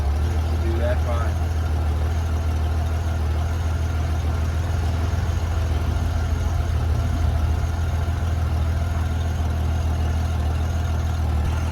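A 1994 Honda GL1500 Goldwing motorcycle engine idles after a cold start following a fuel pump replacement, a steady low rumble held evenly throughout without a break.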